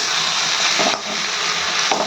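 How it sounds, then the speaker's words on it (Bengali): Bitter gourd frying with onion and potato in a pan: a steady, loud sizzle fills the whole stretch, with a couple of soft stirring scrapes and no voices. "উচ্ছে ভাজা বসিয়েছি দেখেছো পেঁয়াজ দিয়ে আলু দিয়ে উচ্ছে ভাজা"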